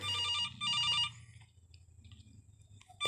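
A telephone rings in an animatronics horror video game: two loud, close electronic rings with a short pause between them. Then comes a quieter stretch of faint rumbling, and a sharp sound at the end.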